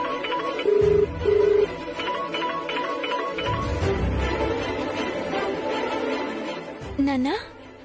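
Two short telephone dialing beeps come near the start as a call is made, followed by low background sound and music in a Telugu TV drama scene.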